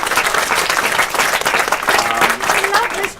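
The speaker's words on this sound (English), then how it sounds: "Big round of applause for those guys who are going to document this." A festival audience in a library applauds the volunteers and video crew, a dense, loud burst of clapping that runs the full length, with voices and cheers mixed in.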